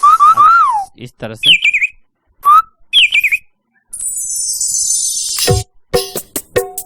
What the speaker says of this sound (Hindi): एक कोयल की आवाज है